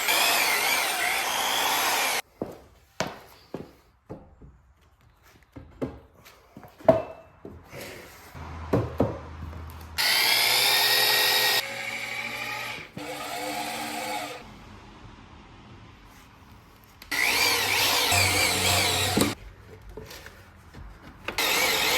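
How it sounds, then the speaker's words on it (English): A power drill drives screws into the wooden frame of a skate micro quarter pipe, with several loud sustained whirring bursts separated by sharp knocks and clatters of wood and handling in a quiet workspace. "we're gonna start screwing this together and frame it out"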